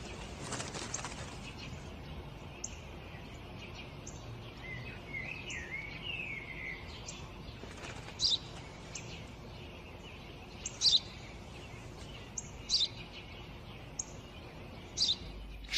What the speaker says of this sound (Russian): Это воробей, отец, воробей.